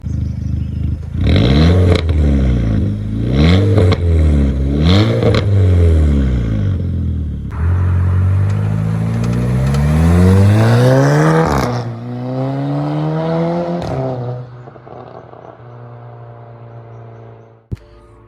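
A car engine revs hard in a series of sharp, loud blips, then climbs into a long sustained rev before dropping back to idle and cutting off.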